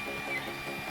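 A 3D printer lays down its first layer during bed levelling, giving a steady, close mechanical whir with a faint high whine from the stepper motors, running continuously and alone.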